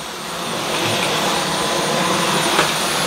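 Dyson V12 Detect Slim cordless vacuum cleaner in auto mode runs with a steady, loud, close whine and rushing airflow, alone and without talk.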